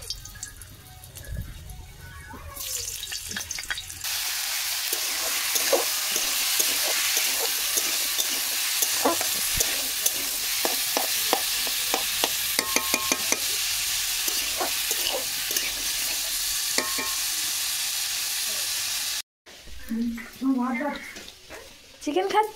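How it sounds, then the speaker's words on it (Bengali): Potatoes fry in hot, smoking oil in a wok, a loud steady sizzle punctuated by stirring scrapes and clinks, with voices talking before and after. "কড়াইতে তেল দিয়ে দিয়েছি, মাংস হয়ে গেছে, তুলে নিয়েছি। এবারে আলুটা ভাজবো।"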